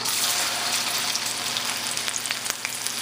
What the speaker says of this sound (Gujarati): અહીંયા મારું તેલ ગરમ થાય છે, તો ત્યાર સુધી આપણે એની અંદર ઓકરાને આસ્તે આસ્તે નાખી દઈશું આપણા ભીંડા